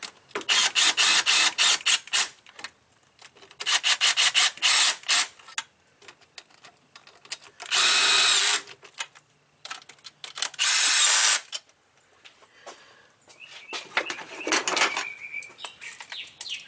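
Power tool running down valve cover bolts on a 2005 Mazda Tribute 3.0L V6, loud whirring bursts of varying length, some rapid and choppy, with quiet gaps and small metallic clinks between.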